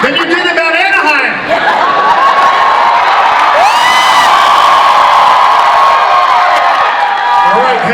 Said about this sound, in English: I want you to cheer louder about this announcement than you did about Anaheim.